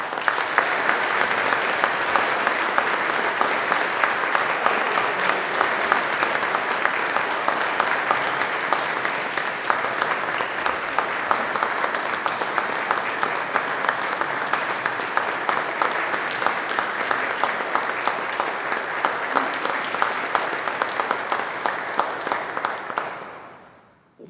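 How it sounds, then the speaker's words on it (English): An audience at a 2024 alumni awards ceremony gives the three honorees a long, sustained round of applause, a dense, even roar of clapping that holds steady for over twenty seconds before cutting off sharply. "give all three of our recipients one more round of applause"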